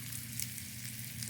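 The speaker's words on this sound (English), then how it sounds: "Sizzling." Fresh salmon croquettes sizzle quietly as they fry in a pan, a faint, even crackle and hiss with no voices over it.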